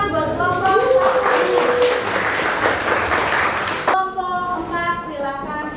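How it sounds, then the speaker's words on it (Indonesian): Classroom applause for a student group after a lesson on electricity, a dense burst of many hands clapping for about three seconds, with a teacher's voice talking over it before and after. "beri tepuk tangan buat kelompok"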